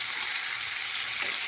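Carrots frying in a pan over a high-to-medium flame give a steady, close, even sizzling hiss with no voices.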